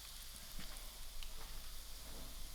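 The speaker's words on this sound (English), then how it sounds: "So this is going to be a very quick fry." Ground coriander seed, mustard seed, fenugreek seed, chilies and black pepper fry briefly in hot oil for a fish pickle, giving a steady soft sizzle with faint crackles, close up and alone.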